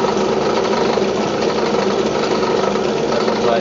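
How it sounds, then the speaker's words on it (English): A drill press spinning its bit just above a piece of bare board, a steady close whirring motor hum with no pauses for the whole stretch, heard alone. "if I now place the drill above a nice piece of bare board, and then I spin the bit"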